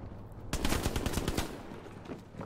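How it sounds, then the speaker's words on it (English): Bursts of rapid automatic gunfire and rifle shots crackle from a World War II battlefield in Hell Let Loose, starting abruptly and rattling in quick succession before tapering into scattered distant shots. "I can hear people shooting"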